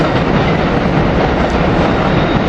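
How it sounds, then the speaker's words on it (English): An Amtrak Regional train led by an ACS-64 electric locomotive passes very close, a loud continuous roar of wheels and rail noise with a steady rhythmic clatter and no voices. "Here we got Amtrak Regional Train 99 coming in, ACS leading."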